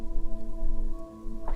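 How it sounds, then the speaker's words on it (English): Steady rain falling outside, heard through an open window as a soft continuous patter under a constant hum, with a brief brighter splash near the end. "it's actually raining and I have my window open"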